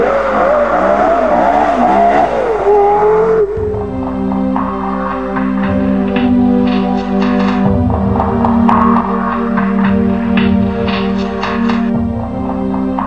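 A Porsche Carrera GT sports car roars past, with a rising engine whine, then a loud, steady high-revving engine drone with shifting pitch and gear changes, close and powerful.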